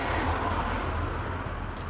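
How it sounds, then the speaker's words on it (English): Steady outdoor street noise heard while walking home, a continuous broadband wash of traffic-like rumble with no distinct events and no talking. "I'm literally just walking in the street right now."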